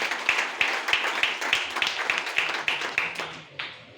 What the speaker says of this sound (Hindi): एक जबरदस्त ताली है इसके लिए।